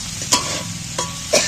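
Onions fry lightly in a pan with a continuous close sizzle, punctuated by three brief scraping stirs.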